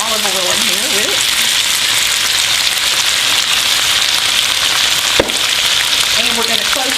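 Chicken frying in olive oil on a stove, a loud, dense, rain-like sizzle throughout, with a brief voice murmur at the start and end and one sharp knock near the close.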